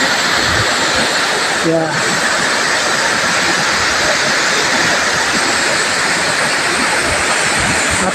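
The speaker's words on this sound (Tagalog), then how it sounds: "itong itsura ng ating Sumilag Falls mga kababayan" Steady broadband rush of Sumilag Falls, a waterfall, fills the whole stretch at constant loudness, with a brief voice murmuring once near the start.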